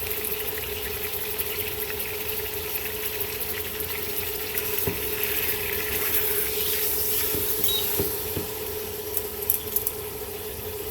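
Beef roast seasoned with salt and black pepper searing in a hot pan, a steady continuous sizzle with a few faint clicks and pops, no voices.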